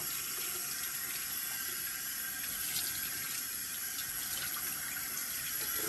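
Tap water runs steadily into a sink during hand washing, a constant, soft splashing stream heard close by with no talking.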